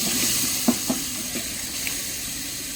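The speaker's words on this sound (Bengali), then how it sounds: "চিকেন দিয়ে দেওয়া হলো একদম।" Chicken pieces sizzle and fry in hot oil in a pan, a loud steady crackle close up, with a few soft knocks from stirring early on and no talking.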